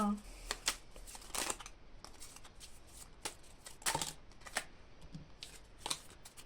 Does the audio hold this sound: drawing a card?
yes